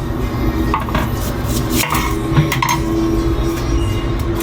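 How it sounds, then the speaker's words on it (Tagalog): A knife chops onions on a board in a home kitchen, an irregular run of close, crisp taps over a constant low background hum. "Kaya mag-iwa na tayo ng sibuyas."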